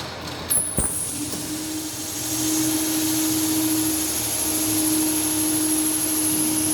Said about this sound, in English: now switch on the 2-point starter, so the motor will start